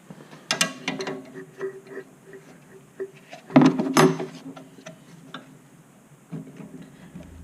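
A wrench works a nut on the underside of a bolt-on diff lock, giving scattered metallic clicks and ratcheting ticks with a louder clatter midway, close by and without talk.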